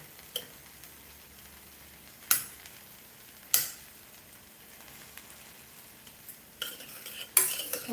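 Potatoes being cut up inside a cooking pot, with a few sharp metallic clinks and scrapes spaced seconds apart against a quiet background, the last ones coming closer together.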